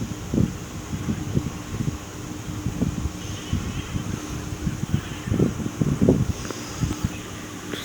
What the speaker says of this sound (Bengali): আস্তে আস্তে বাতাস আসছে ভালোই লাগছে